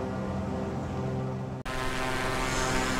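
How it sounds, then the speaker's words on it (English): A propeller airplane in a flight simulator game flying away from an airport drones steadily, with one brief dropout partway through, loud and alone, no voices. "We're flying away from the airport right now."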